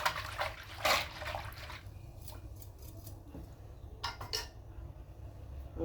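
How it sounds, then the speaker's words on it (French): A spoon stirring a homemade yogurt mixture in a bowl makes faint, scattered scraping and clinking, with a couple of brief louder strokes over a quiet room. "Je vais mélanger jusqu'à ce qu'il n'y ait plus de granulaux à l'intérieur."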